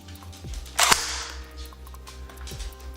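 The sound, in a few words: overvolted airsoft gun firing into drywall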